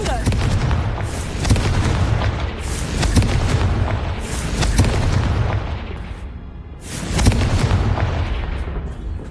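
A fiery blasting spell in the Hogwarts Legacy video game sets off loud, booming explosions again and again, each one a heavy burst with a rumbling tail, coming in close succession.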